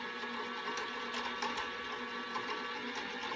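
A Grizzly G0704 CNC mill spindle spins at about 5,000 RPM, giving a steady, loud high-pitched whine with mechanical buzz that holds throughout without talk.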